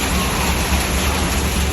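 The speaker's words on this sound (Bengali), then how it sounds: "আবার বৃষ্টি শুরু হয়েছে দেখেন" Steady, dense rain pouring down, a continuous full hiss with a low rumble underneath and no pauses.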